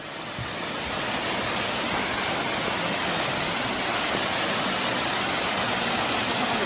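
Wild water rushing outdoors near steep steps, a steady broadband roar of a stream or waterfall that swells slightly in the first second and then holds constant and fairly close, with no voices.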